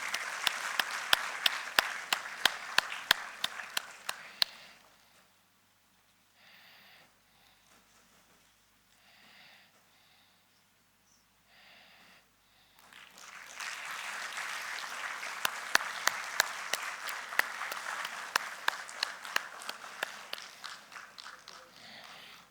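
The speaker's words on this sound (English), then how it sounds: "A big round of applause again." An audience at an academic lecture event claps, loud and sustained at first, fading to near silence for several seconds, then swelling back into another long burst of applause.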